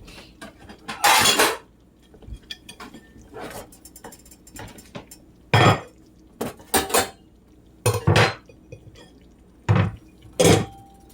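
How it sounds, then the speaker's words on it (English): While shrimp and grits are cooked at a home stove, a metal lid is set onto a pot, producing several sharp clanks and clinks in separate bursts amid quieter handling noises. "I'm going to put my lid on that and set it off to the side."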